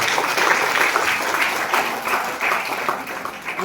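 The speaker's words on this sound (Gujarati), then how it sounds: "એમના માટે એક વખત જોરદાર તાળીઓ પાડો" An audience at an ITI Gandeva convocation ceremony applauds the institute's team, with a dense, steady wash of clapping hands running throughout without a break.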